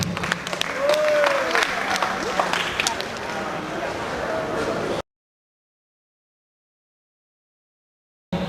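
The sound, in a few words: loud applause at media award ceremony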